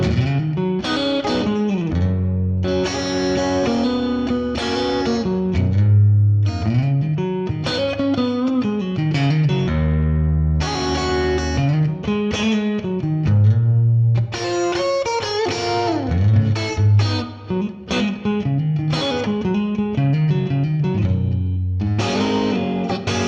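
An electric guitar runs through an Axe-FX III preset modeled on a guitarist's tone, with a Super Reverb amp on one side and a Vibroverb on the other. It plays loud, continuous, reverb-heavy chords and lines with no talking.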